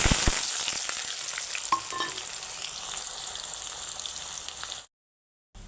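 Chopped onions fry with cardamom and bay leaf in oil already used for frying potatoes, giving a close, steady sizzle with faint stirring taps before it cuts off near the end.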